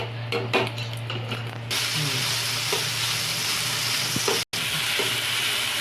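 Pasta frying in oil with turmeric in a wok gives a loud, steady sizzle with bursts of spattering and stirring scrapes up close, briefly cutting out for an instant near the end; no speech.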